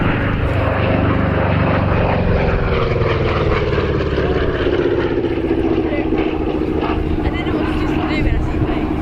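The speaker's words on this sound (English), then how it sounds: "Such a charismatic aeroplane, beautifully flown" A warbird propeller aeroplane flies a display at RAF Cosford Airshow, its steady engine drone rising and falling in pitch as it passes, loud and continuous, with people talking nearby.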